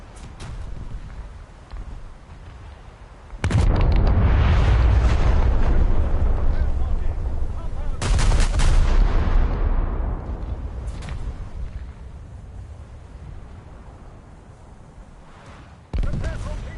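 Big naval guns fire in War Thunder: a huge blast erupts and rolls for several seconds, a second heavy salvo follows, then a final sharp boom near the end, with a voice talking faintly underneath.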